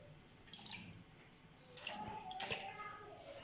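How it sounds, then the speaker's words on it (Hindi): Water is poured from glasses into a cooking pot for beef korma, a soft splashing and trickling pour in two short bursts over a faint background hiss. "फिर मैं यहाँ पे 2 भर के पानी के गिलास डाल देंगे"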